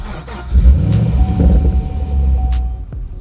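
A manual car's engine is started with the key, clutch and brake held down: a short cranking burst catches into a rumbling, slightly revving idle, close and loud.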